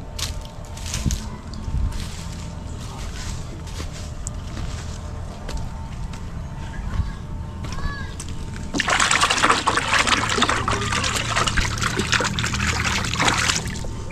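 Water runs steadily from a tap, growing louder and splashing harder partway through, with faint background noise and movement.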